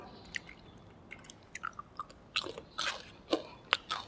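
Close, crunchy chewing of fried pork eaten with sticky rice, a series of quiet bites and crisp crunches growing busier toward the end, with no talk.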